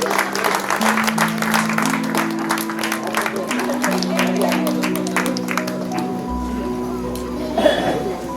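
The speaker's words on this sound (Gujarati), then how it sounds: "તાળીઓનો અવાજ ચાલુ રહેવો જોઈએ" Sustained applause from an audience at a retirement ceremony at a press office, steady dense clapping throughout while a tonal music line plays beneath it and a few voices rise near the end.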